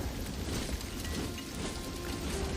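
Rain pours down in a Lord of the Rings: The Two Towers battle scene at Helm's Deep, a dense, even, loud hiss that holds steady without a break.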